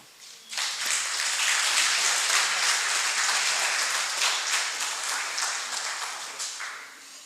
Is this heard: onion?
no